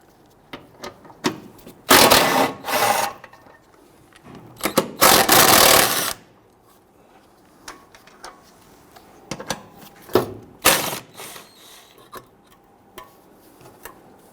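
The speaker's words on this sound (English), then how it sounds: "Then we'll use our 12mm socket and extension. Loosen and remove these." A 12mm socket on an extension loosens and removes bolts on the fuel vapor charcoal canister of a 2006-2012 Toyota RAV4 3.5L V6. Close ratcheting bursts alternate with short clicks and taps, and no one talks.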